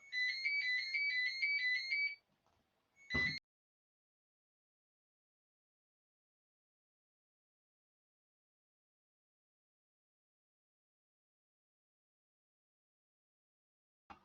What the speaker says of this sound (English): I don't normally get phone calls, and I should have turned that phone off.